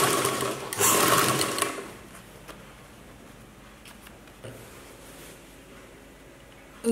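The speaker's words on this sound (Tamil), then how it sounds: "தைக்கிறப்ப பார்த்தீங்கன்னா சுருக்கல்லாத மாதிரி நீட்டாக பார்த்து தைச்சிடுங்க." Sewing machine stitching a chudithar top, with a loud burst of rapid motor-driven stitching near the start, then a quieter steady mechanical hum and faint ticks for the rest.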